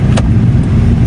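Volvo S80 engine hums steadily while driving, a loud, close low-pitched drone inside the car with a brief higher hiss, no speech.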